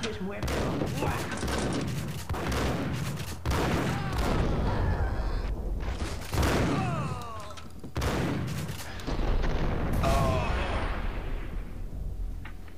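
Bursts of game gunfire in Max Payne, loud repeated volleys of rapid shots with booming impacts, running continuously over nearly thirteen seconds with a voice talking over parts of it.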